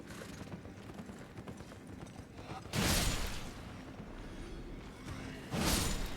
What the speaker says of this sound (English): Horse has gone down the tunnel